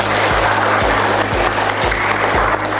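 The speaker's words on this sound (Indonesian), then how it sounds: "Ya, tepuk tangan" Applause from an audience at a West Java school presentation: dense, loud, continuous clapping across the whole stretch, over a steady low thumping beat in the background.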